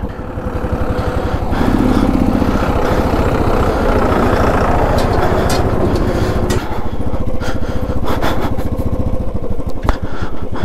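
A motorcycle rides along an icy mountain road at Yangla Snow Point with its tires slipping, giving a loud, continuous close engine drone with rough fluctuations and scattered crackling.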